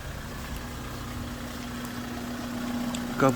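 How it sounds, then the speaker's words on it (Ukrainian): Low, steady rumble of a 2019 Renault Master van's diesel engine idling nearby, with a faint whistle and a brief knock at the end. "На даний час заведений двигун. Чисто м'яко працює."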